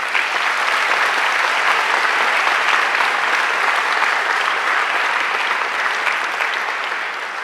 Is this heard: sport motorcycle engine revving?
no